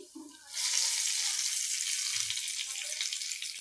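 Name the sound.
eggs frying in oil used for frying onions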